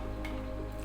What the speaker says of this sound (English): water will just move out from this hole